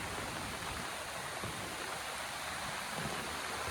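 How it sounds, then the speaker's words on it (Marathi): Heavy monsoon rain falling in thick fog beside a hill temple with tall stone steps, a dense, constant hiss of rainfall that stays steady throughout with no voices. "पाऊस धो पडतो आहे."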